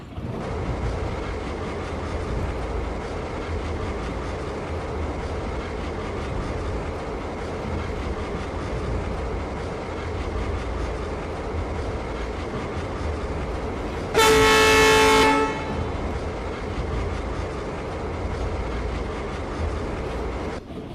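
A WDM 3A diesel locomotive rumbles and chugs steadily nearby, with one loud horn blast partway through before the engine drone continues.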